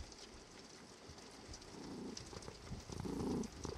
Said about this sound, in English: Major Tom, he's curled up next to me, purring